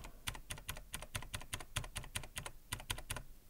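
Fingers type on a computer keyboard into a console, a quick, fairly even run of about twenty crisp keystrokes with a brief pause near the end, quiet and close with no voices.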